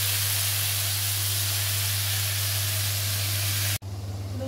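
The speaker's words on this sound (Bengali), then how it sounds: "লুচি ভাজা চলছে" Luchi, a puffed Indian flatbread, deep frying in hot oil, making a loud, steady hissing sizzle that cuts off abruptly near the end before a quieter hiss resumes.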